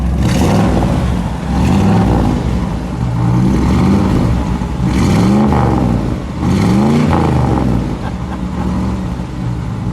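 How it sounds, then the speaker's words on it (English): A 1964 Chevrolet Impala Super Sport hardtop's 327 V8 revs several times, close and loud, each blip rising and falling in pitch between stretches of steady idle. "All right, John, give it a little rev, would you?"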